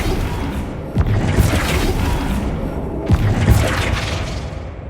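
Flipendo spell cast in Hogwarts Legacy, heard as two booming impacts about two seconds apart, each a sharp thump followed by a whooshing burst that trails off, loud over a rumbling game background.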